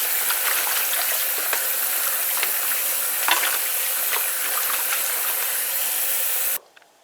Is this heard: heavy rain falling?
no